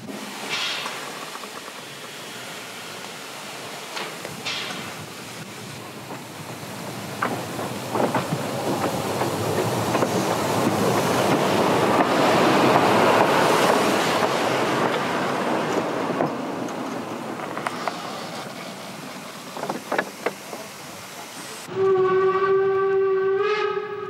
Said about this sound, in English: the Jonsdorf branch locomotive was being prepared for its next trip